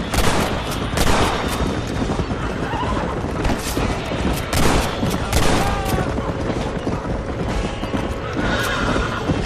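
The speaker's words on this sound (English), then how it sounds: "They're shooting right at me." Gunfire during a Red Dead Redemption shootout, sharp shots scattered through a busy mix of horses whinnying and hooves clip-clopping, with brief voices in the background.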